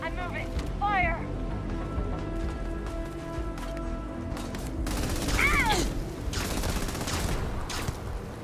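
Rapid bursts of gunfire in the space game Starfield, a player's weapon firing in a fight. Shots crackle over tonal game effects and swell into a dense volley in the second half, with no talking.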